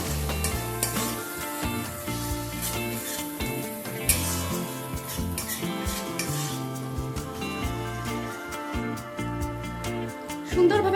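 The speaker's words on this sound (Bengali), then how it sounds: "সবকিছু অল্প একটু সময় নিয়ে নাড়াচাড়া করে নেব" Spices and freshly grated cashews are stirred in a pan for a vegetarian chana dal, giving a steady sizzle with scraping spoon strokes against the pan throughout, alone and fairly loud.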